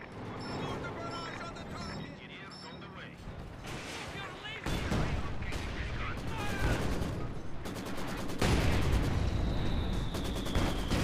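Artillery barrage in a wartime combat video game: dense, continuous rolling blasts and gunfire that grow louder partway through and build to a heavy, sustained roar by the end, with no pauses between impacts.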